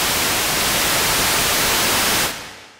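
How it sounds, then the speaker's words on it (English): Broadband white noise from a Haken Continuum EaganMatrix synthesizer hisses loudly and evenly for about two seconds, then fades out quickly as the tone is released. "what we want to do is just look at what white noise will look like"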